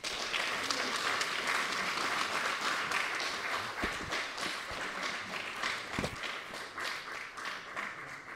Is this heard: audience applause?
yes